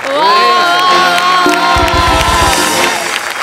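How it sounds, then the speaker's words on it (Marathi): A studio audience at a comedy show gives a standing ovation, a loud, continuous wash of cheering, whoops and clapping that lasts the whole time. "उभा राहून टाळ्या वाजवतो."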